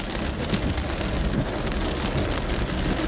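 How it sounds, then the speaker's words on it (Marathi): Steady rain pouring down along a road near Karla, Lonavala, a dense continuous patter on surfaces, fairly loud and close, with no voices over it. "पाऊस अजूनपर्यंत चालूच आहे."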